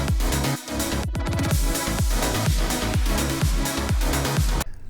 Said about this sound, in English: I chopped up the audio sample into smaller bits so it kind of sounds like an actual fill